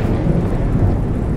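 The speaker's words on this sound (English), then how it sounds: "The rain won't last for too long." Steady rain with a deep thunder rumble in the video game In Silence, a loud, continuous wash of storm noise with no talk, lasting the whole short stretch.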